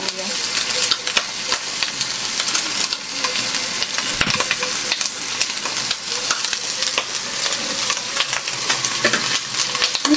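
Garlic and onion sauté in a pan for ginataang ampalaya with sitaw, giving a loud, continuous close sizzle with crackling pops and occasional stirring scrapes, no talk over it.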